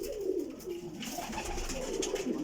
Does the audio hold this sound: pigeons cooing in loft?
yes